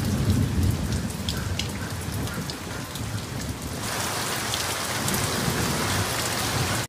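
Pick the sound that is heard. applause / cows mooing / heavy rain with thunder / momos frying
heavy rain with thunder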